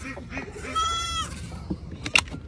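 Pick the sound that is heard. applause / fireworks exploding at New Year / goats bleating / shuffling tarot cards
goats bleating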